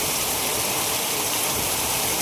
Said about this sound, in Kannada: ಚೆನ್ನಾಗಿ ಹುಯ್ತದ ಮಳೆ ಮಾತ್ರ